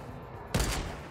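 A single sharp gunshot burst in Fortnite Battle Royale, blind fire ringing out loud and close after a moment of low ambient noise, with a short tail.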